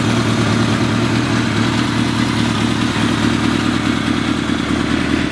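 A 1979 Kawasaki KZ650C motorcycle engine runs warm, a loud, close, steady rumble with a smooth, even beat and light mechanical clatter throughout, no voices.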